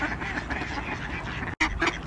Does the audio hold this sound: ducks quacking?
yes